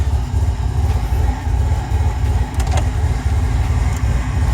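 Car that had sat for seven years, freshly cranked on a new battery, its engine running with a steady, slightly uneven pulsing chug close by, alone without talk.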